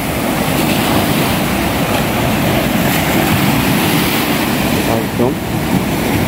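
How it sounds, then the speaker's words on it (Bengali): Sea waves wash onto a Mauritius beach in a steady, loud roar of surf with wind buffeting the microphone, and a voice speaks briefly near the end. "আমার কাছে চলে যাচ্ছে ঢেউটা"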